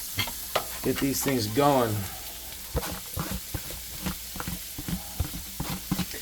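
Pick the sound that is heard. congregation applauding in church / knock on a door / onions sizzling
onions sizzling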